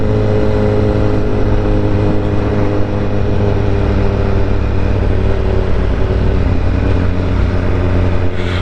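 Light, quick motorcycle engine held at a steady high rev, a loud continuous droning roar with a buzzing harmonic tone and no break or voices.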